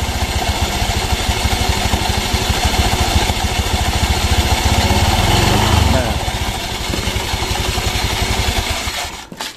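Honda Vario automatic scooter engine running at high RPM on a stand with the rear wheel spinning, a loud steady buzzing drone close by that eases off near the end.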